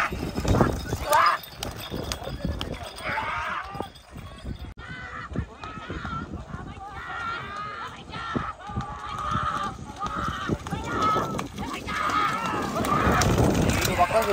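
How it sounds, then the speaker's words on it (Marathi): A horse at a rural bullock-cart racing event neighs among farm animals and outdoor noise, with hooves and honks, while people talk over it. "घोडा बघ."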